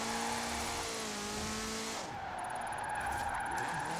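A Toyota fitted with a Nissan engine skids under handbrake in the video game Forza Horizon 4, its tires squealing in a loud, sustained wail over engine drone that shifts in pitch midway and carries on to the end.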